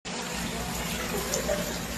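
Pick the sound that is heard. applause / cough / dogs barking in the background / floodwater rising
floodwater rising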